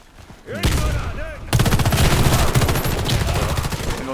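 Rapid automatic gunfire from a new low-recoil weapon in the online shooter Warface, starting with a few sparse sounds, then a loud, steady stream of shots that continues close up to the end.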